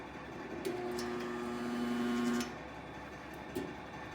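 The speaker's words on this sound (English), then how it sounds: "we've got our handy dandy Harbor Freight spot welder" Harbor Freight spot welder firing: a steady, buzzing electrical hum lasting almost two seconds that ends abruptly, with a brief clunk a second later, over a quiet room.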